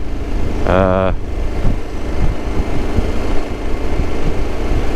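A 2022 KTM 1290 Super Adventure S motorcycle engine runs nearby, with a brief rising-and-falling throttle blip near the start, then a steady rumbling idle continuing underneath.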